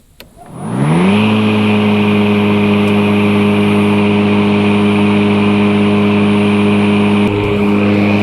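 The electric motor of a battery-powered Toro Grandstand Revolution zero-turn mower whirs up to speed and then holds a steady, loud hum as the mower blades spin continuously.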